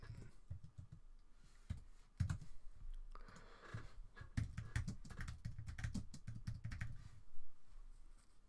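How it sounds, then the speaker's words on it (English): Typing on a computer keyboard while building a WordPress site, with bursts of quick, close clicking keystrokes in uneven runs and brief pauses between them. "I'm gonna have to type it."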